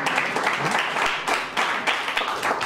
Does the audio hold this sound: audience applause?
yes